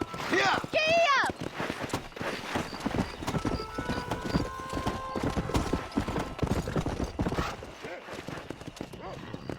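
Horse hooves gallop in the Red Dead Redemption video game, a quick, close clip-clop drumming under speech. A whinny sounds at the start, then the hoofbeats continue with a score.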